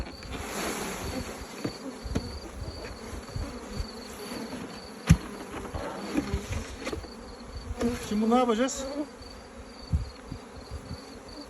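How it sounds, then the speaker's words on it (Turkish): Many honey bees, including forager bees flying out, buzz and drone around close by in a continuous swarming hum, with brief speech partway through. "Uçanlar tarlacı arılar."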